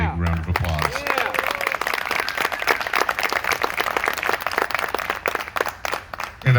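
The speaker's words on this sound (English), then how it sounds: "Can we give Russ Hatter one more big round of applause?" Large audience at a Frankfort Heritage Week awards ceremony breaks into sustained, dense applause after a brief spoken introduction, continuing loudly to the end.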